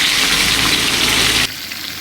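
Onion, ginger and garlic paste hitting hot mutton-fat oil in a pan gives a loud, dense, hissing sizzle up close for about a second and a half, then drops abruptly to a softer, steadier frying hiss.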